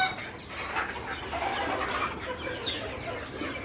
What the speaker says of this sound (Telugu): కోడి పుంజులు కోడి పెట్టలు అన్నీ ఉన్నాయి చూడండి